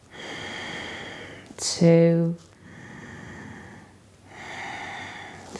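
Slow, audible yoga breathing during a core and balance practice: a sharp nasal inhale-exhale in the middle, with an instructor's voice counting before and after it.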